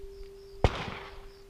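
A single sharp gunshot cracks once from near the microphone and rings off into a brief decaying tail, with a faint steady hum underneath and no talking.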